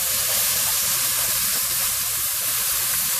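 Chicken pieces and garlic browning in a hot pan for lemon oregano chicken, giving a loud, steady sizzle with a constant hiss of spitting oil that runs unbroken the whole time.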